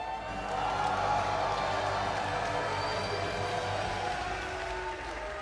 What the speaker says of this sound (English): Let's hear a round of applause for Levy.